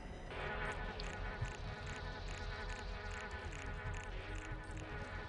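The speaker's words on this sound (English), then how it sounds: "Little hive bug control thing." Steady insect-like buzzing from a hive bug in the video game Anachronox, a continuous droning hum with a pulsing texture, fairly faint and alone.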